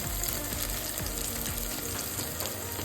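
Small onion and carrot pieces fry in hot oil for korala khichdi, giving a steady, dense sizzle that stays loud and even throughout, with no voices.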